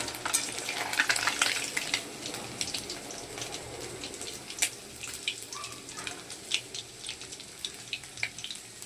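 Amudi fish pieces frying in hot oil give a steady crackling sizzle with sharp pops and spatters, close and continuous throughout, without talk.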